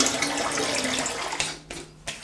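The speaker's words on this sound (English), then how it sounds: "let me rinse this face" Cold water splashes and runs from a tap as a face is rinsed mid-shave at a bathroom sink, a steady close wash of water with a couple of brief splashy breaks near the end.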